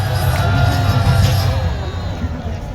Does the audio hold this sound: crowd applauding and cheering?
yes